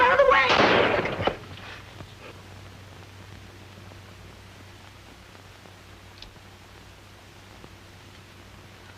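A gunshot in a 1949 crime film cracks out as one loud, sharp report at the very start, then fades into a faint, hissy quiet for the rest.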